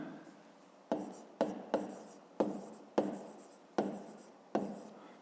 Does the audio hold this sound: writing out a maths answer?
yes